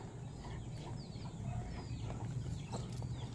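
Caged hens cluck and call faintly over a steady low background hum, with a few short, soft bird sounds scattered across the few seconds.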